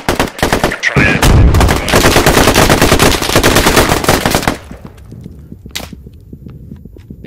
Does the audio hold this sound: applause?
no